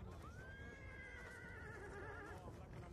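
Horse in the Call of Duty Black Ops 2 video game lets out a long, clear neigh lasting a couple of seconds, with soft hoof clip-clops and game ambience underneath.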